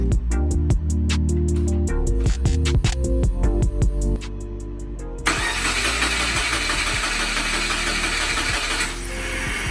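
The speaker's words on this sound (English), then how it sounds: "just do a quick little test start and make sure it'll crank, and then we're just gonna shut it off" A swapped 2013 engine in a 2009 Subaru WRX cranks over in a steady rapid rhythm for a few seconds, then catches and settles into a loud, close, rumbling idle that carries to the end.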